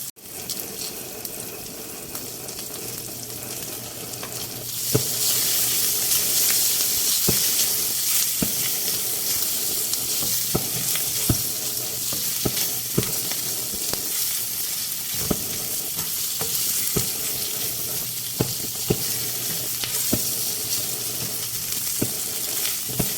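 Sliced ham sizzles steadily in butter and onions in a pan for carbonara, the frying hiss jumping louder after a few seconds and continuing with scattered clicks and pops, no talking.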